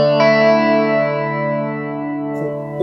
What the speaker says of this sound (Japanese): コーラスってこういう音を揺らすエフェクト